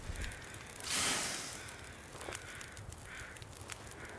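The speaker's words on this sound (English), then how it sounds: "I hear some crows over there." Crows caw in The Long Dark, several short harsh calls spaced apart, the loudest burst early and a few fainter caws following over a quiet outdoor background.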